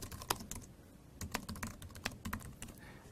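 Computer keyboard typing during a networking lab session, with scattered close keystrokes in irregular bursts, crisp and fairly quiet, with no talking.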